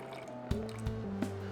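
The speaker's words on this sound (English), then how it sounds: "250 grams of water into the pot" Water is poured into a pot for a cocktail recipe, in a short quiet burst of liquid filling with a few small splashy drips and a rising gurgle, close and faint with no talking.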